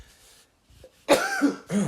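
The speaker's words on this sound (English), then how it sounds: "because these people spray this shit, it's got me coughing." Two or three harsh, close coughs in quick succession after a quiet moment, loud and raspy.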